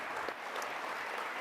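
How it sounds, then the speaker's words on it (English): An audience applauds a conference panel, a dense, steady clapping that holds at an even level throughout, heard from within the room. "give a big round of applause to our panel"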